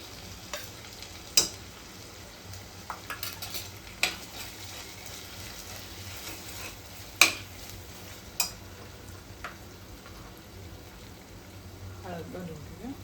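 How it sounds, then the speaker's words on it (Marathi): Onion and tomato fry in a pan for a Maharashtrian prawn masala, giving a steady low sizzle broken by sharp scraping stirs and clinks of a spoon against the pan. "टमाटा पाहून छान फ्राय होऊ दे"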